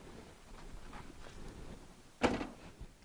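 A 2007 Hummer H3 door opened from inside by pushing a release bar linked to the handle mechanism: one quiet muffled clunk near the end, after a stretch of low cabin background noise.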